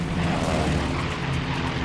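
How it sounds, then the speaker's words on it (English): A WWII P-38 fighter in a steep dive produces a steady, loud engine roar that holds for about two seconds with no break. "Olds breaks into a steep, screaming dive to help the outnumbered Mustang."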